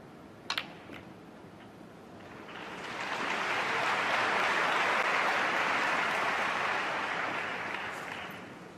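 Audience of about 9,000 at the Hong Kong Masters 2022 snooker final stirring into a swelling wash of excited applause and murmuring that builds, holds, and fades gently, with a couple of sharp knocks early on.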